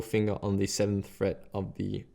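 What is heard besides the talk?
No everyday noises stand out.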